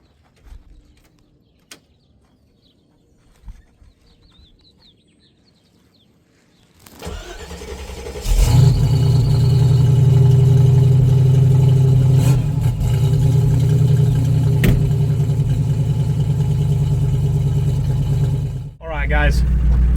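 A cold Jeep V8 engine with a misfire and new spark plugs cranks and catches after a quiet stretch, then runs loud and steady with an uneven, lumpy idle for over ten seconds.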